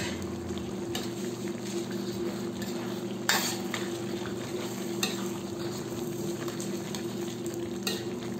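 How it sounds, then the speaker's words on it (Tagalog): Chicken and potatoes being stirred in a pan, steady sizzling and frying with occasional scrapes and clinks of a utensil against the pan, close and continuous at moderate volume. "haluin natin ito."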